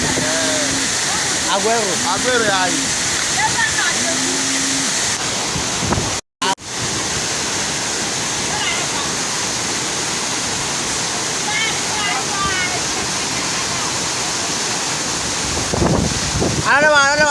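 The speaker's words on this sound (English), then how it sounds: "go to the CHENKU Waterfall" Chenku Waterfall near Dodowa, Ghana, a steady, loud roaring rush of falling water that fills the whole scene, with wind buffeting the microphone and voices talking over it at times.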